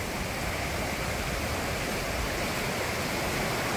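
Floodwater from two swollen brooks rushes together and flows under a road, a steady, loud, broadband roar with no pause, close by and with no voices.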